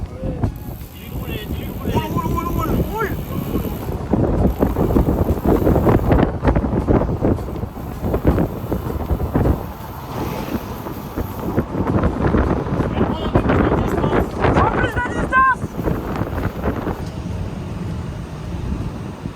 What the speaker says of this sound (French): Il y a un vent de face.